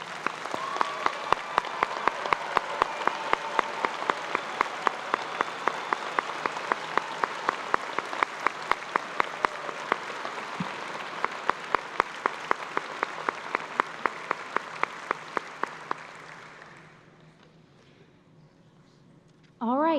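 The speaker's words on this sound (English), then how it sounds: "let's please give a huge round of applause for all of their dedication" Commencement audience at a 2017 high school graduation ceremony applauding veterans and military members, a large crowd clapping steadily for about sixteen seconds before fading out, somewhat distant in a big hall.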